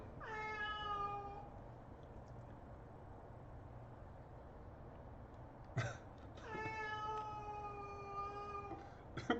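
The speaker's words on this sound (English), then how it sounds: "There's a cat outside, and Mochi's freaking out right now." Cats meow and caterwaul outside in a neighborhood rivalry, with two long drawn-out wailing yowls separated by a short gap and a soft thump, heard from a moderate distance with no talking.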